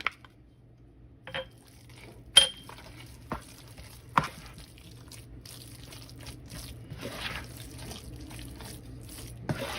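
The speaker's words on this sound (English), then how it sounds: "Now we're gonna add our épices. And we're gonna mix that in." Spices get worked into a meat filling for meat bread: scattered spoon taps and clinks against a bowl over soft, moist mixing and squishing, all fairly quiet.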